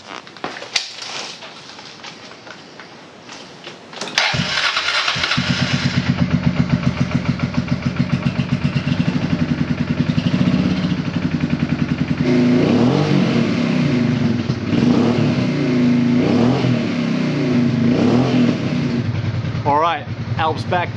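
A Honda Transalp motorcycle engine, freshly fitted with a gravity-fed fuel line and check valve, cranks and catches at about four seconds, then idles steadily with rhythmic throttle blips and revs over a long stretch, loud and close.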